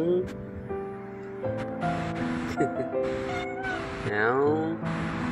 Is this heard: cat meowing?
yes